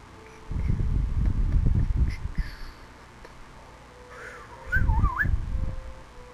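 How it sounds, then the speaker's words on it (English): A person whistles one brief, warbling rising-and-falling note, set between loud, close bursts of rumbling breath and handling noise. "I did not mean to whistle."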